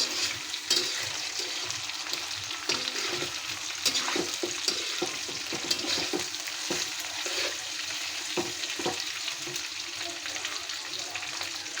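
Chicken pieces fry in a small amount of oil in a pan, giving a steady close sizzle throughout with scattered crackles and the occasional scrape of stirring.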